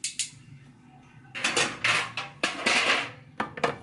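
Clattering of a utensil against a big cooking pot while mixing peach cobbler dump cake ingredients, including canned peaches in syrup; several close, irregular metallic scrapes and knocks with no talking.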